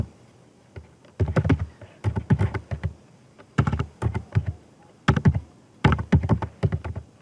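Python code being typed on a computer keyboard: close, crisp bursts of rapid keystrokes in short clusters separated by brief pauses, with no voices.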